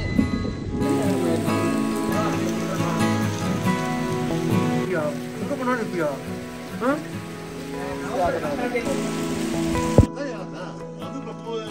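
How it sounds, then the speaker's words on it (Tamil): Heavy rain pours steadily on a surface, a constant close wash of patter, while music plays and a voice speaks briefly over it. "பயங்கரமா மழை பெய்யுது."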